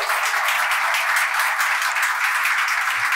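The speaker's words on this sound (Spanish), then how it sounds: "Pues un aplauso para María, por favor." Audience applause after a talk on illustrated neuroimaging, a close, dense, even clapping that carries on steadily without voices.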